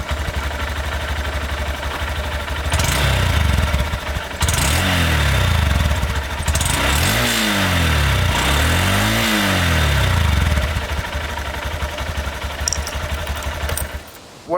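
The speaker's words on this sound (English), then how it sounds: "I will give you a clip of what the engine sounds like in a moment." Honda CB125F 125cc motorcycle engine idling steadily, then revved up several times in rising and falling sweeps before settling back to idle, loud and close with no talk.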